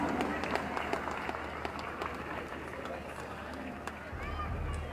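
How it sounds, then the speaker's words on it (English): Audience applause at a school annual day function, a steady wash of clapping from a large crowd that carries on for several seconds, with a low hum of the hall underneath and a brief rise near the end. "May I also hear a resounding round of applause for his inspiration"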